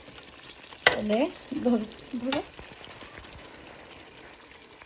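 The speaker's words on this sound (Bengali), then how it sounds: "এখন মাংসটা ভালো করে কষাতে হবে" Mutton sizzles softly in a pan as it is sautéed, a steady frying hiss running throughout, with a sharp clack and a few spoken words near the start.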